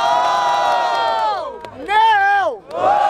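A crowd at a street rap battle in Barueri, São Paulo roars with loud cheering and shouting, swelling in two strong bursts separated by a brief dip.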